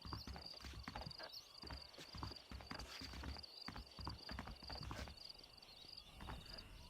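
Horses' hooves clip-clop at a walking pace in Red Dead Redemption, an uneven run of soft thuds with a constant high ambient tone and faint talk beneath.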